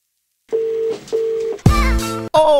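Telephone keypad dialing: two steady touch-tone beeps in a row, followed by a sudden loud burst of sound and one more bright tone, with no talking.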